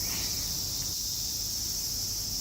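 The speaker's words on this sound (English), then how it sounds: "other than the cicadas chirping." Cicadas in a summer field produce a dense, unbroken high buzzing drone that holds steady and loud across the whole stretch, with no voices.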